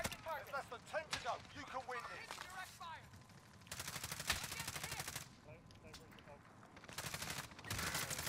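Rapid gunfire bursts and automatic weapon fire in the Warzone video game, coming in repeated volleys at varying distance, with players talking over much of the shooting.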